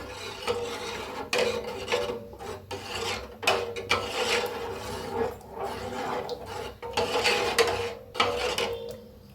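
Thick papad batter stirred continuously in a pot as it cooks: a spoon scrapes and rasps against the pot bottom in uneven repeated strokes, close and fairly loud.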